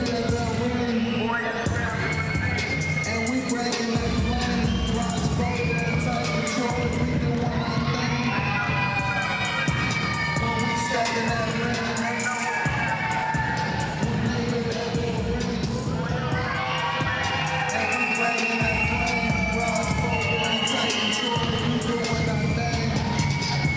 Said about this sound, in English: Crowd is into Grappling Inc. here.